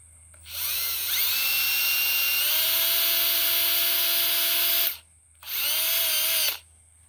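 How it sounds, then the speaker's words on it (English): A power drill bores pilot holes into a wooden board slat resting on a 2x4, running loud and close in a long whining burst that drops slightly in pitch under load, then a shorter second burst after a pause. "We're going to put two pilot holes right here, and then I'm going to flip the board around."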